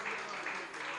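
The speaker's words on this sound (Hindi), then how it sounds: "जोरदार तालियों से स्वागत करें" An audience at a convention applauds to welcome a speaker to the stage, a brief, dense burst of clapping from many hands at moderate volume.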